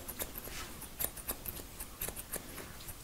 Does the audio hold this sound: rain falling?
no